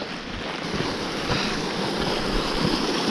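A waterfall along the trail up Mt LeConte gives a broad, steady rushing roar, close and loud, with gusty wind-like noise mixed in and no voices.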